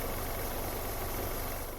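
A car engine running steadily at idle, a low continuous hum and rumble with no talking.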